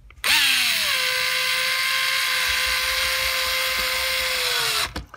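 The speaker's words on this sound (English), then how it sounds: "put the screwdriver right on there and start drilling it in," A cordless screwdriver drives a screw into a wall while mounting a wireless security camera, a close, loud whirring motor that spins up sharply, holds a steady high whine for several seconds, then cuts off.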